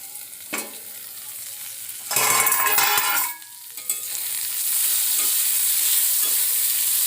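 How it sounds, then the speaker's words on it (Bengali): Ivy gourd frying in a pan on a gas stove gives a steady close sizzle, swelling into a louder, rougher burst midway as the pieces are stirred, then settling back to an even hiss. "গ্যাসে হচ্ছে কুঁদরির ভাজা।"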